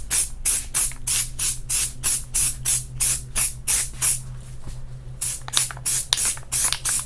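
An aerosol spray can mists onto a cracked Chevy dashboard pad in a regular series of short, close hissing bursts, one after another with brief gaps.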